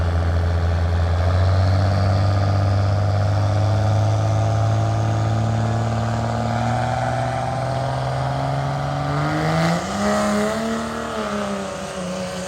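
A 2000HP Cummins diesel truck pulls a sled at a street pull event, its engine a loud sustained roar that climbs steadily in pitch, then wavers and drops near the end as the run bogs down.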